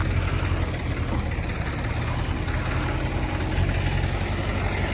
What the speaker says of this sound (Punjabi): ਆਹ ਆਹੀ ਕਹਿੰਦੇ ਜੀਸੀਬੀ